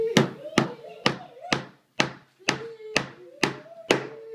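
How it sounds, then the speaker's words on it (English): A hammer strikes a nail into a handmade toy fire truck: about nine sharp, close wooden knocks in a fairly even rhythm, each with a short ringing tail. "Hit the nail."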